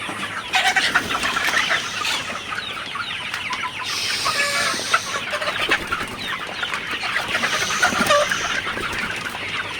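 Sonali super hybrid chickens cluck and chatter continuously inside a poultry house, many birds near and loud at once, in a dense overlapping flock noise with no talking.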